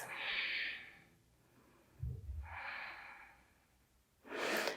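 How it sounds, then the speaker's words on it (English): Slow, deep yoga breathing held during a high lunge: two long airy breaths near the mic, with a low rustle of movement between them and a third breath starting at the end; no talking. "Inhale, rise up, high lunge. Deep breaths."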